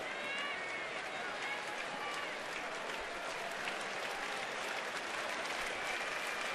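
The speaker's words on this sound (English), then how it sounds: "Groundswell of support coming from the crowd now to get this third out" A baseball stadium crowd at a Yankees game in Washington roars and applauds in a sustained swell of support, loud and continuous, with a broadcaster talking over it.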